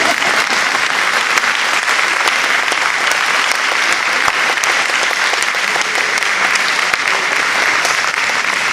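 Sustained applause from a church congregation during a parish mass at a festival, a dense, steady wash of many hands clapping at even loudness throughout, with no talk over it.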